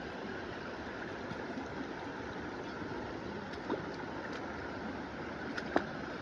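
A river flows steadily at a trail-run crossing during a mountain running festival in Tanay, producing a continuous broadband rush of water with a few faint clicks and taps and no voices.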